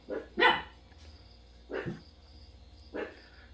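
Pet dogs bark indoors, three separate sharp barks spaced about a second apart, the first the loudest, with no talking and a faint steady whine underneath.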